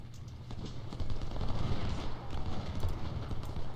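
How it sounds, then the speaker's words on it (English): Artillery fire in the Civil War strategy game Ultimate General: Civil War at the Battle of Shiloh: a continuous rumbling barrage with repeated low thuds and crackle, steady and moderately loud throughout. "Okay, we're taking some artillery fire."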